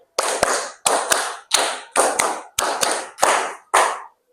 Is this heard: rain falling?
no